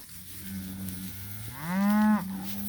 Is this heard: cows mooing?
yes